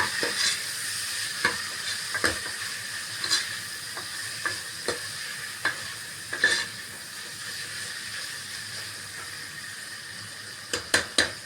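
Coriander and curry leaves frying in a pan give a continuous hissing sizzle, with intermittent sharp stirring taps and scrapes spaced a second or two apart, and no voices.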